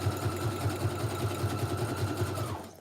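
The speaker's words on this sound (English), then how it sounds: "So I'm just going to go through and like sew up any pockets." A sewing machine stitches a handmade wallpaper journal, sewing up paper pockets with a steady, rapid mechanical chatter that runs close and loud for a few seconds before stopping.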